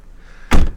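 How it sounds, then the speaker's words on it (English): A single solid thunk as the car door of a pre-owned 2011 Chevrolet Cruze is opened, loud and close after a quiet moment, with no voices. "And I'll open up this door panel so you can see"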